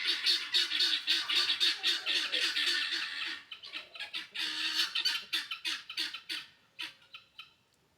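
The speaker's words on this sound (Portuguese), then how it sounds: "Valeu, galinha." A chicken clucks and squawks in rapid bursts, loud and close, the calls growing sparser and quieter toward the end.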